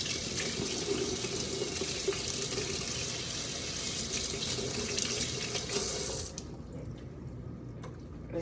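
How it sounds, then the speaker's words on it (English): A kitchen tap runs steadily as hands are rinsed beneath it, a close continuous rush of water that shuts off near the end, leaving a few faint drips and handling noises. "I am just gonna rinse my hands here"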